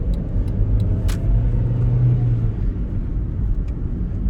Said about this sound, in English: That's me granny shifting,